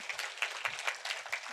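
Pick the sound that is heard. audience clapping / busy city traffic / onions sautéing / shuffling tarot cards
audience clapping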